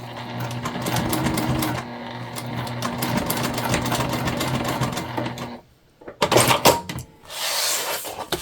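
A sewing machine stitches a leopard-print tote bag, running in a steady fast mechanical whir for several seconds, then pausing before short close bursts of stitching resume.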